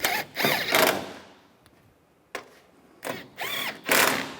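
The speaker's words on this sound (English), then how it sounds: "Take the 2 10mm bolts, get those started. And tighten these down." A ratchet wrench tightens the 10mm bolts on a 2011-2015 Chevrolet Cruze headlight assembly in several close bursts of clicking, separated by pauses.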